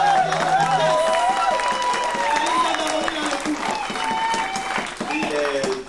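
A church congregation applauds during a worship service, steady clapping filling the room alongside voices and a tonal musical backdrop, dense and fairly loud throughout.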